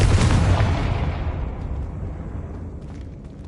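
A Confringo spell explodes in Hogwarts Legacy, one loud, close boom with a heavy low rumble that slowly decays over a few seconds.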